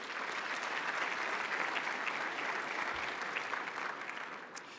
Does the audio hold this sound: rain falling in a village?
no